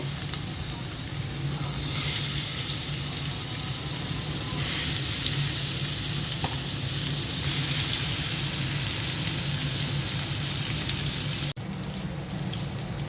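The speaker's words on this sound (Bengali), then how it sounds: "প্রথমে মাছটা ভেজে নেব" A large tilapia, rubbed with turmeric and chilli, fries in hot oil with a dense, continuous close sizzle that swells and eases slightly, cut by one short clatter near the end.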